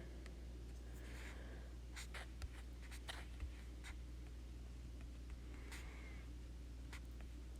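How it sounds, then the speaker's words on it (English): Writing a math formula by hand, pen or marker scratching in short strokes and taps over a steady low hum, quiet and close. "So let's just write the formula first."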